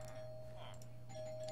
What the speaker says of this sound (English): Sorry for the doorbell ringing in the background.